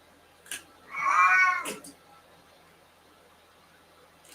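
A house cat gives one clear, drawn-out meow that rises and falls, preceded and followed by soft knocks in a quiet indoor room.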